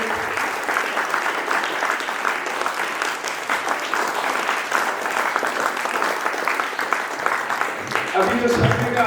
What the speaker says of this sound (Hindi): एक बार फिर ताली बजा दें।